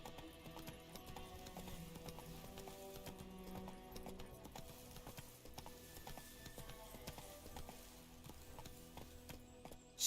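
Horse hooves clip-clop at a steady trotting rhythm in The Witcher 3: Wild Hunt, faint and continuous under game sounds.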